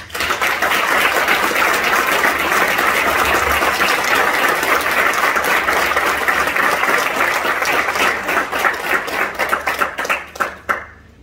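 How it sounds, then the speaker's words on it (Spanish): An audience at a cultural event gives loud, sustained applause with dense, continuous clapping, thinning into a few scattered claps near the end. "para quienes pido un aplauso"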